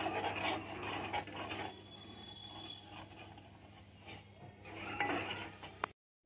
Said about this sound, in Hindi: अब इसको अच्छे से धीरे धीरे भून लेंगे सूजी को